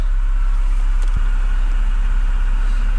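A flood-damaged BMW E60 528xi idling close by: a loud, steady low rumble with an even engine pulse and a faint tick partway through.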